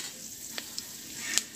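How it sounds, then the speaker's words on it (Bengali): Minced ginger and garlic hiss in hot oil beside half-fried cabbage, a faint steady sizzle with a couple of light ticks from a spatula, close by and quiet. "দিয়ে দিলাম আদার কিমা ও রসুন কিমা।"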